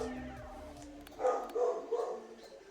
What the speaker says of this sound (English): My dog is barking really, really loud.